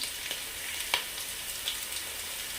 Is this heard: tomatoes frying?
yes